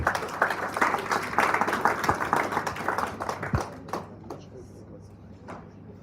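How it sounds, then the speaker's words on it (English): Audience applause at a student leadership symposium in a hall: a burst of clapping that swells for a few seconds, then thins out and fades to scattered claps and quiet. "Give a round of applause for Mr. Bernard Magoro."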